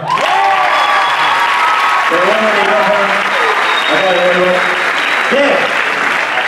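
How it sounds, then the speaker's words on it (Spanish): Applause from an audience at a choreographed dance show fills the space, steady and loud, while voices with pitched, shouted tones cut through over it. "Un fuerte aplauso para él"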